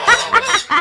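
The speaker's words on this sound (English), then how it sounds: "Silky fowls. And they're so furry." Silkie chickens cluck close by, a quick run of four short, throaty clucks in a row.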